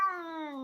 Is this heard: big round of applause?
no